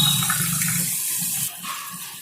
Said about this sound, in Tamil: இப்போ நல்லா கொதிக்க ஆரம்பிச்சிருச்சு தண்ணி